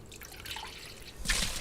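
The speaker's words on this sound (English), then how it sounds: "Pour it in here, Rose." Water splashing out as it is poured into a container in a household scene, a brief dripping trickle that swells into a louder splash near the end.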